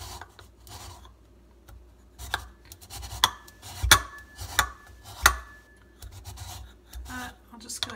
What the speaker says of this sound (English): I'll just go ahead and zest all of this